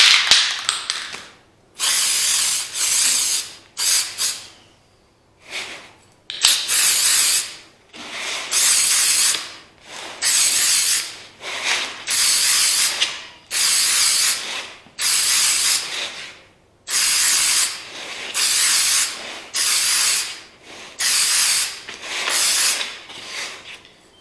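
Krylon Triple Thick Crystal Clear Glaze sprayed from an aerosol can, heard alone as a series of loud, close hissing bursts, each lasting one to two seconds with short pauses between them, about fifteen sprays in all.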